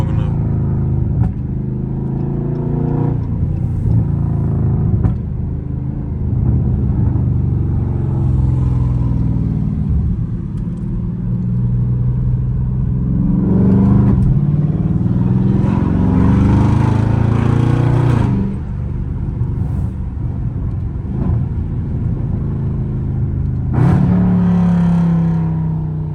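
A Dodge Scat Pack in track mode drones and revs from inside the cabin, engine pitch climbing and dropping through repeated downshifts with throaty rises, steady and loud, while someone talks now and then over it.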